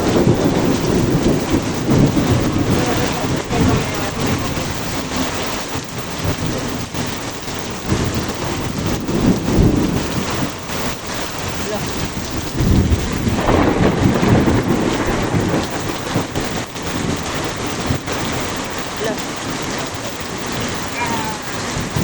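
Heavy rain and gusting wind in a thunderstorm in Clark, Pampanga: a dense, roaring downpour with surging bursts of wind and rumbling low thunder, loud and continuous throughout, with faint voices occasionally beneath it.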